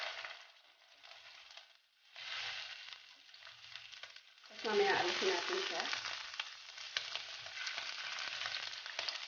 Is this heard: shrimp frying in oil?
yes